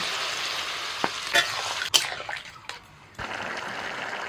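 Water poured into a pan of frying ridge gourd and potatoes sets off a sudden hiss and crackle, followed by spatula scrapes and a brief lull before the sizzle resumes softly, heard close.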